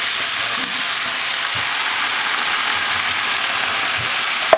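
Potato cubes and canned peeled tomatoes cook in a pan, giving a steady, even sizzle and hiss that holds for the whole stretch, with only faint scattered ticks underneath.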